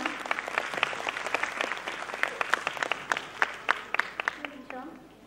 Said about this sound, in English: Please give a huge round of applause for the ma'am.